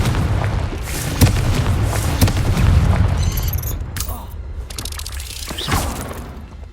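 Confringo blasting spells burst in the video game Hogwarts Legacy with repeated loud booms and sharp cracks over a rumbling background, while a voice talks intermittently.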